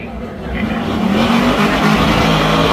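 A 1983 Chevy revs hard during a burnout at the Topsham Fair competition, a loud, sustained engine roar with rising tire squeal and crowd noise close by.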